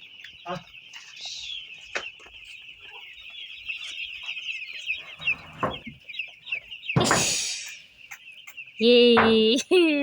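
Five-day-old broiler chicks under a brooder light peep steadily in a dense, continuous high chorus, with scattered louder knocks and a few brief voices breaking through near the end.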